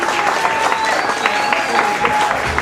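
Lively crowd applause at a music event, continuous clapping with some cheering voices and a faint ringing tone running through it.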